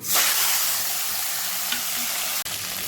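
Singi fish frying in hot mustard oil in a kadai, a steady close sizzle and hiss running throughout, with a few faint clinks of handling.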